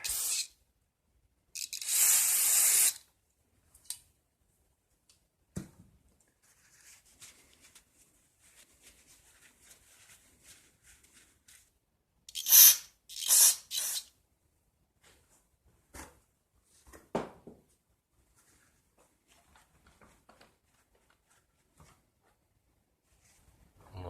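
Parts cleaner sprayed onto the mechanism of a 1966 Rheem/Califone 1450 record player: several short, loud close hissing spray bursts separated by quiet stretches with small handling clicks and taps, no talking.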